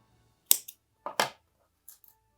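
Scissors snip through crochet yarn on a granny square Christmas tree ornament, a few sharp quick cuts close up in an otherwise quiet room.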